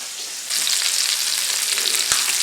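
Stuffed chicken breast hits a hot pan and sizzles loudly, a steady broadband frying hiss that jumps up after a brief quieter start and holds on alone, with one small knock near the end.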